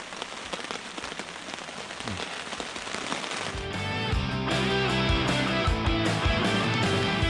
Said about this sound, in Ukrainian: А дощ ну прям взагалі не закінчується.